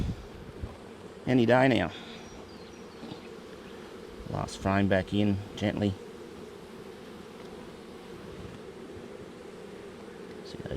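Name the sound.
honey bees buzzing at an open hive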